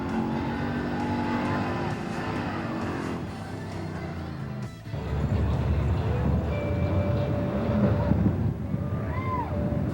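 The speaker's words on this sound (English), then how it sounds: "Every car imaginable is cruising Woodward tonight." Many cars cruising Woodward Avenue on a busy evening, engines droning and passing in a steady mixed roar, with a brief dip midway before the traffic noise swells again under occasional talk.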